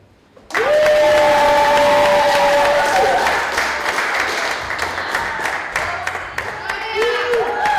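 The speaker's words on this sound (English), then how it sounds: "please give a big round of applause for our next performer, Onia" Applause and scattered cheers rise suddenly from a comedy club crowd welcoming the next stand-up performer, a dense wash of clapping that holds steady with a few whoops riding over it.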